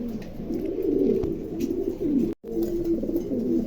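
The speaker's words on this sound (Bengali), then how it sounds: "দেখেন চমৎকার, একদম নতুন কবুতর" A pair of young Roman pigeons coo in a cage at a pigeon sale, giving a steady, close, low throaty cooing with a very brief break near the end.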